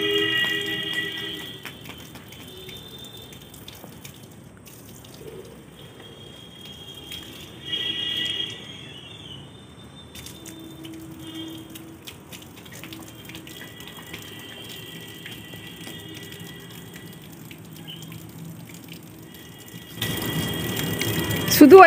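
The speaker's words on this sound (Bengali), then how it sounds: "গাছেতে জল দিয়ে দিচ্ছে।" Water splashes steadily from a hose or can onto garden plants, a soft continuous low trickle with a slightly stronger gush partway through, faint voices in the background.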